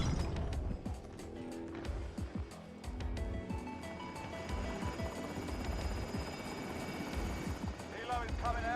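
Helicopter rotor chopping in a video game as the helo lifts off carrying cargo, a steady mechanical thrum sitting beneath game sounds and voices talking over it.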